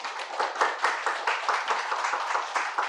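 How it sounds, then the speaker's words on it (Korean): Audience at a film talk event claps to welcome the director and two actors, a steady, fairly close round of applause with distinct rhythmic hand claps throughout. "큰 박수로 환영 부탁드리겠습니다."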